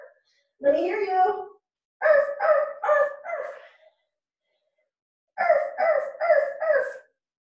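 Voices imitate a dog's barking in an outdoor beach yoga class, calling out a bright series of yelping arf sounds in two bursts, three to four quick barks each, separated by a pause.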